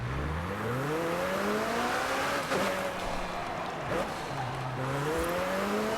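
Car engine revving in the racing game Forza Horizon 5, rising and falling through gear changes with a steady loud drone and brief tire squeals, close and continuous throughout.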